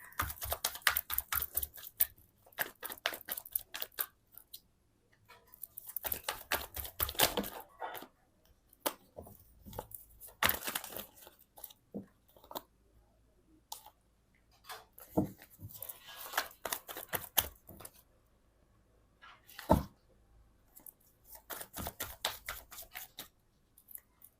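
Tarot cards drawn from a deck and laid down, a long run of crisp, close tapping and flicking clicks in uneven bursts separated by quiet pauses.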